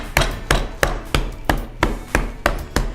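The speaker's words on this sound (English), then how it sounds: "We can keep pounding this now." A pork tenderloin is pounded thin with about nine evenly spaced, heavy thuds at a steady rhythm. The blows are loud and close, and no one speaks.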